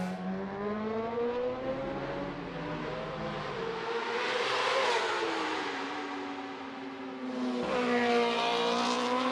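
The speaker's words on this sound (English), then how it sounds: "Just listen to the revs." A high-revving racing motorcycle engine at the Macau Grand Prix climbing and dropping through gears as it passes, with a sharp whine and a brief cut between shifts.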